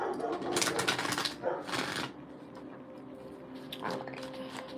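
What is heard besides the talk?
shuffling cards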